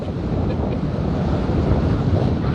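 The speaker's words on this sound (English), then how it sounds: "You know who would like this wind?" Steady, strong wind rumbles and roars over the open water of a lake at a vintage Gold Cup boat race, with a heavy, continuous buffeting right at the microphone and no voices.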